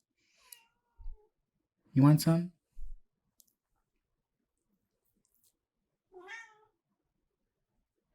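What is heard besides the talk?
cats meowing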